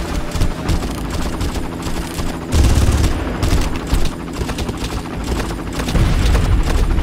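Loud, sustained gunfire in the video game Far Cry: dense bursts of rapid shots and heavier booms rolling almost continuously, with short surges of intensity.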